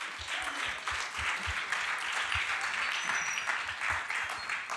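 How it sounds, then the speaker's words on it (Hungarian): Congregation applause at a Sunday evening church service, a steady dense wash of many hands clapping that fills the whole clip, loud and sustained without speech. "Adjunk egy nagy tapsot a Zintú versétnek."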